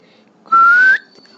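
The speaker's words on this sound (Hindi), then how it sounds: "वो एक सीटी बजाती है" A woman whistles to call a horse, giving one short, clear, slightly rising whistle, close and loud, that stands out against a quiet background.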